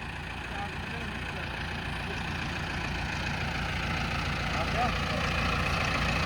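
An Arjun 755 tractor engine runs at a steady, even idle, a continuous mid-low drone at moderate distance with no clear revving.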